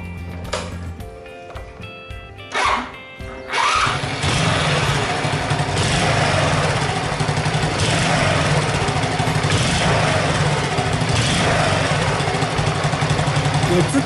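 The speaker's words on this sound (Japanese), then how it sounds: "一旦エンジンかけてみようかな。" After a few seconds of quiet, a Honda Super Cub motorcycle engine with an exhaust leak at the muffler starts and settles into a steady, even idle that continues to the end.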